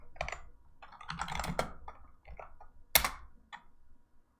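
Computer keys are tapped in short irregular bursts of close, crisp clicks, with one sharper keystroke like an enter press, in a quiet room.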